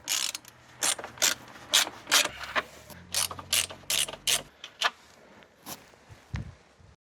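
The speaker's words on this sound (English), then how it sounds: "let's see if I can get it out by removing the screws up here. This uses a Torx 30-bit." A ratchet wrench with a Torx 30 bit works on screws during a supercharger service on a Mini Cooper S R53, giving bursts of sharp, close clicking pawl ratchets in repeated strokes, followed by quieter handling noises near the end.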